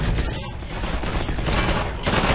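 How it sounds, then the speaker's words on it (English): Continuous dense gunfire in Half-Life 2 as the player takes hits, a loud unbroken fusillade of rapid shots filling the whole stretch with no talking. "Damn, I'm getting shot!"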